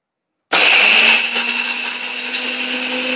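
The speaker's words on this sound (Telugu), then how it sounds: "ఇంకా ఫైన్ పౌడర్ లాగా మిక్సీ పట్టేసుకుందాం" A mixer grinder blitzes roasted pistachios into a fine powder. After half a second of silence it starts abruptly into a loud, steady, high-pitched motor whir with rattling grinding that runs continuously to the end.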